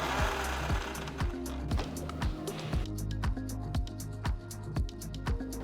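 Kitchen grinder pulsing two green chillies, a piece of ginger and four garlic cloves into a coarse paste, a loud steady motor whir with a rhythmic knocking pulse, running continuously at close range with no talk.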